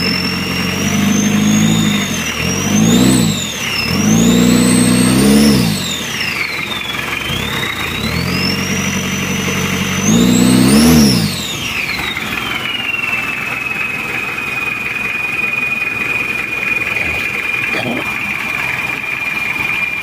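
A Japanese-built Mitsubishi Pajero diesel engine idles steadily with a faint popping fault. Its low rumble sits under a continuous high whine, and sliding tones overlay the first half.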